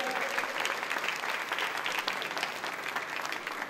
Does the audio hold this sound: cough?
no